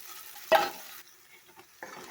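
A sudden sizzling burst as ground coconut paste hits vegetables sautéing in a hot pan for a kurma, followed by quieter frying and stirring sounds.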